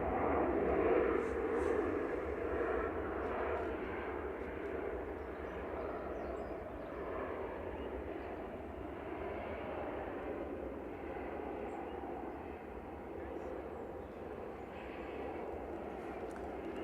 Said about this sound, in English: Ryanair coming in from Dublin with flight